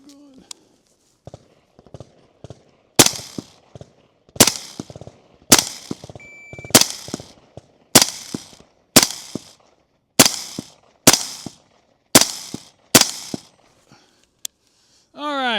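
Rifle shots ring out at a shooting range, about ten sharp loud cracks spaced roughly a second apart, each with a ringing tail, with faint movement and handling noise between them.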